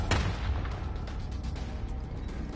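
Sniper rifle fire in a PlayStation 4 shooter game: one sharp, booming shot at the start, then a dense, rumbling battlefield din with scattered distant pops carrying on to the end.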